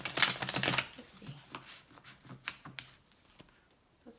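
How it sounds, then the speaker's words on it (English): Tarot cards shuffled by hand in quick bursts of crisp riffling and soft slapping, close up, with scattered taps and a faint voice in the background. "Let's get one more shuffle for you guys."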